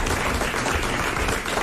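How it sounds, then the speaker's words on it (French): A French television studio audience applauds, a dense steady wash of clapping heard up close for a short moment with no talk over it. "Voilà, applaudissements pour Madame Marcy avant qu'elle reçoive son mandat."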